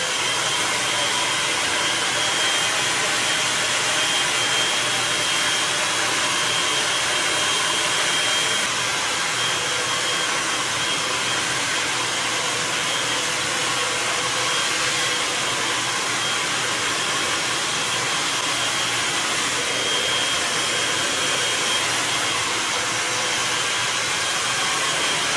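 A hair dryer blows steadily at the roots of a salon client's hair, a loud, continuous close whoosh that holds without pause throughout.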